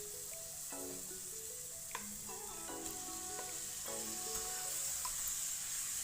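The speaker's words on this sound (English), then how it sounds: "I've cut my steak into strips the best I can, and I'm just going to add it into the pan." Steak strips sizzle in a pan with onions for pepper steak pasta, a soft steady frying hiss with faint music underneath.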